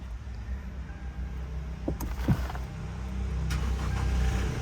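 A Toyota Fortuner Legender 4x4 diesel (2024) heard from inside the cabin: a couple of sharp clicks and a brief crank, then the engine catches and settles into a steady, slowly swelling low idle hum.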